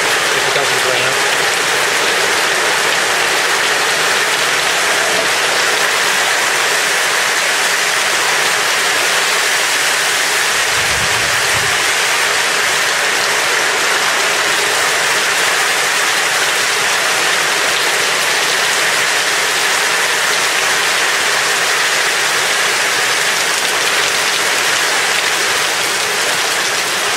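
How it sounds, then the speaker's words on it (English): Heavy rain pours down in a garden, a loud, unbroken, even hiss that runs for nearly half a minute, with a brief low thump partway through and a voice murmuring faintly beneath it. "it's still only rain. It's gotten very heavy."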